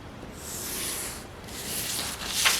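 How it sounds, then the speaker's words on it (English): A pen or marker draws a guideline on a sewing pattern for a hip foundation garment, a close, soft scratching across paper in two or three strokes with a brief pause between them. "So draw my guideline first and then come down"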